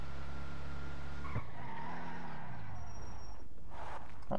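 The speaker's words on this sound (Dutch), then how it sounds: "Goede remmen heeft hij wel. Hij stond wel op tijd stil." A car in GTA 5 brakes hard from speed, its engine note dropping away as a loud tire squeal and skid follows, ending in a stop.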